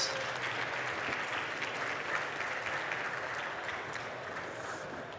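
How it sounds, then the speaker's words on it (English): An audience at a festival start-up pitch event applauds a presenter, with steady, moderately loud clapping that fades slightly toward the end and no voices over it. "An applause for Catherine."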